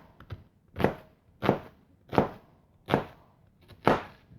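A knife chops a medium sweet onion on a cutting board, five distinct evenly spaced thuds with quiet gaps and small taps between them, close and clear with no talking.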